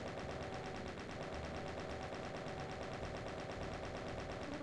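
Continuous gunfire in DOOM II, a steady, dense wash of rapid shots that runs unbroken at an even loudness throughout.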